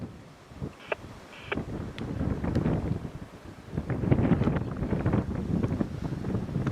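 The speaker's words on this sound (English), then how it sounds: "Still remains overcast, windy, quite cold." Wind buffeting the microphone on an overcast, cold safari drive, gusting in uneven low rumbles and swells, with faint rustling and scattered small knocks.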